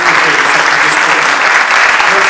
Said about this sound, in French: J'aimerais bien que vous l'applaudissiez très fort,